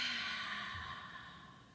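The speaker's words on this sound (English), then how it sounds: "Can we all do our dragon breath?" One long, forceful breath pushed out for a yoga dragon breath, starting strong and fading away, close and clear with no talking.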